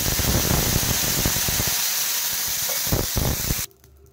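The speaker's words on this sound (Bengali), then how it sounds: "এর মধ্যে এখন দিয়ে দিলাম খুব সামান্য জল।" A small splash of water hits a hot oiled pan and hisses loudly, a broad steady sizzle that fades a little before cutting off abruptly near the end.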